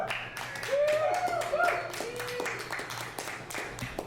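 A live comedy show audience claps and cheers in support of comedy film, a dense burst of applause with whoops rising over a steady crowd murmur, with a voice and some talk over it.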